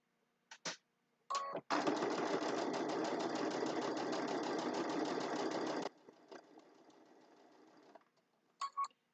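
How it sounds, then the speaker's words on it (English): A sewing machine stitches straight across fabric in one long continuous run of rapid needle clatter lasting about four seconds, bracketed by brief short bursts before and after, close and clear with no talking. "So we're going to lock in place, stitch across, and lock in place."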